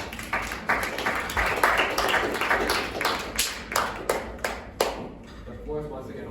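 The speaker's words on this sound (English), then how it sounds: "Clapping is in order." Clapping from a youth Model United Nations committee session breaks out after a resolution passes, a few hands clapping in quick irregular rhythm, moderately close, fading out near the end with some talk underneath.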